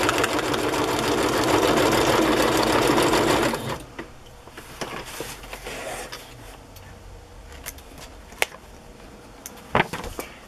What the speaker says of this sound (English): I guess it's still sewing